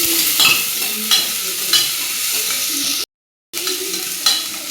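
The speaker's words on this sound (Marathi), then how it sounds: "मी अर्धा चम्मच तेल टाकलेलं आहे। हे बघा, मी कांदे टाकून घेते आता।" Onions hitting half a spoon of hot oil sizzle steadily with occasional stirring clicks, close and fairly loud, broken by one brief cut to silence.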